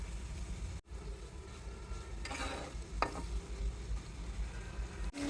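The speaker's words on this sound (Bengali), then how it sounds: "পেঁয়াজ দিয়ে দিব। পেঁয়াজটা ভেজে নিব।" Onion softening in hot oil in a pan after fried tangra fish, with salt added, a quiet steady sizzle under a low background hum, with a brief burst of stirring in the middle.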